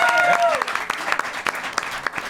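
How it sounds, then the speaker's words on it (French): A live studio audience at a Quebec comedy game show applauds. A brief sustained tone rings at the start, then the clapping thins into scattered, individual claps. "On peut vous applaudir."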